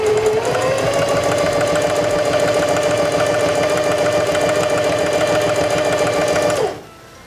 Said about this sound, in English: Release the reverse lever, and sew down the seam.